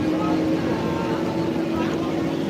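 A boat passes nearby on the water at Porto Garibaldi, its motor giving a steady, close droning hum with a constant wash of noise throughout.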